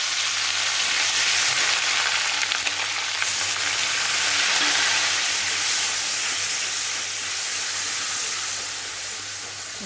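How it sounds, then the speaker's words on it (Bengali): Onion sizzles and fries steadily in hot oil in a home kitchen pan, a dense continuous crackle and hiss close by with no talking, for a Bengali prawn posto curry. "পেঁয়াজটা আগে দিলাম।"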